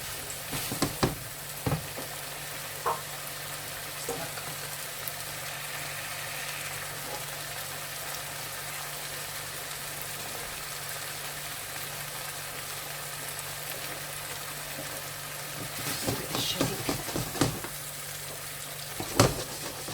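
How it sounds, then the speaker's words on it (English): Cream mixed with spices for malai chicken tikka cooks in a hot pan with a continuous soft sizzle, punctuated by a few sharp utensil clicks near the start and toward the end. "You can see this cream started to sort of like cook more or less straight away."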